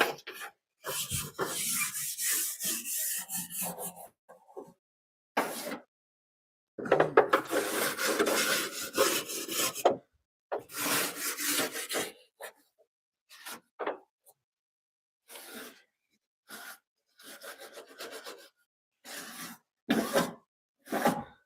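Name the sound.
brush scrubbing dirt out of a taillight housing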